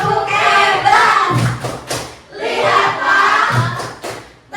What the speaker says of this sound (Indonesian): Kasih tepuk hebat juga buat ibu kita.